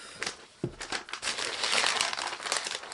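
Protective plastic film crinkling and peeling off a new 16-inch MacBook Pro, a close, steady rustle with a sharper crackle near the start, no talking.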